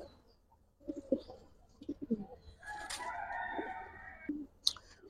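Khaki and Giribaz pigeons in a fancier's collection give soft coos amid bird calls, with a longer sustained call in the middle and a sharp chirp near the end, fairly faint.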